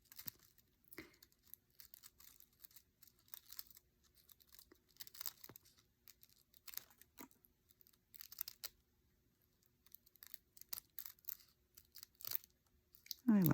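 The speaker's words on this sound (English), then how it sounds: "I will cut this basket down, or the end of this basket down, to about 2 inches." Scissors snip and crunch through the dry pine needle bundle at the end of a coiled basket, a run of irregular close cuts and crackles separated by short quiet gaps.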